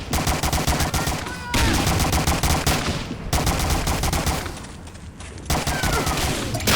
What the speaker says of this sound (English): He's shooting at some wall